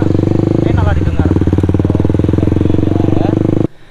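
Honda CB150R motorcycle fitted with a racing exhaust, its engine idling and revving with a throaty, pulsing rumble close by, loud and continuous before cutting off abruptly near the end.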